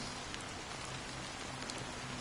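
Steady rain falls in a video game, a soft, even hiss of drops on surfaces with faint spatters, quiet and unbroken throughout.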